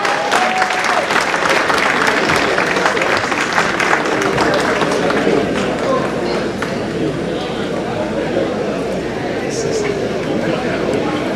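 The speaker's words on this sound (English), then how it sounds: "One more applause, a round of applause for His Excellency" Crowd applause at a 54th anniversary dinner dance, a loud sustained wash of many hands clapping that slowly thins toward the end, with voices and room noise mixed in.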